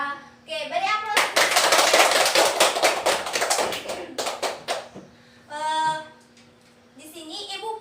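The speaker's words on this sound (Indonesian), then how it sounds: "Oke, beri aplaus." Students in an Indonesian classroom break into applause, a dense burst of many hands clapping for about four seconds before tapering off, with children's voices chanting briefly before and after.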